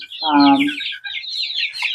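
Chickens in a backyard flock with a rooster: a loud, close cluck or squawk at the start, followed by thin, high chirping calls.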